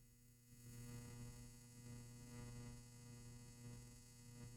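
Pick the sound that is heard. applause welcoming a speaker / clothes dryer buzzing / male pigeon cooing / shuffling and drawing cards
clothes dryer buzzing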